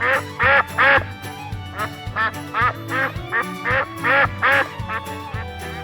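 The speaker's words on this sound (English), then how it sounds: "duck," A cartoonish duck quacks in a children's animal-learning game, with repeated loud quacks in short bursts over a bouncy musical backing.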